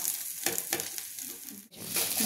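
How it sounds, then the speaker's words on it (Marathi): Eggplant slices shallow-fry on a tawa with a constant bright crackling sizzle, and a couple of scraping stirs and a brief dip mark where the slices are turned. It is close and quiet, with no one talking. "हे पहा अशा प्रकारे वांग्याचे काप मी दोन्ही बाजूने खरपूस शॅलो फ्राय करून घेत आहे"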